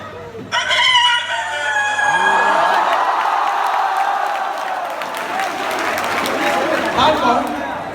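A performer at a college freshers' reception imitates a rooster's dawn crow with the voice, a long rising call followed by clucking, as a crowd cheers and applauds loudly.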